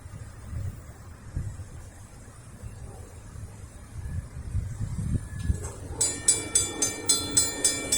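A Norfolk Southern northbound intermodal freight train passing in Lynchburg, Virginia, its cars rumbling steadily nearby before a crossing bell starts ringing in a regular, repeating pattern toward the end.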